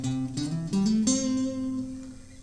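Electric or acoustic guitar plays the second part of the intro riff to a song, a few plucked single notes sliding between pitches, close and clear with no talking.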